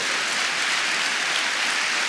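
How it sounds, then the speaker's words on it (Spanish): A church congregation claps together in a dense, steady burst of applause with no voices over it. "Denle un aplauso al Rey bendito si está de acuerdo."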